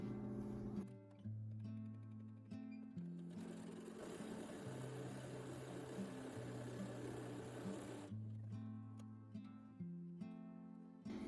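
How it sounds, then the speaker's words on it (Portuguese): Sewing machine stitching the top of a pocket lining: one steady, fast run of mechanical whirring lasting about four seconds, faint and close, between quieter stretches of tonal background music. "eu vou pôr direito com direito aqui e passar um pezinho de máquina para unir a parte superior desse bolso aqui"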